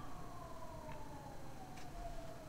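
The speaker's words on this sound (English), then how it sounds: "what the fuck is going on with those sirens? They're like not regular sirens at all." An odd, unusual siren wails faintly in the distance with a slowly falling tone over a quiet background.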